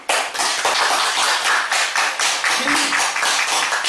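Congregation at a church worship service clapping along in a steady rhythmic beat, loud and near, with individual claps clearly separated.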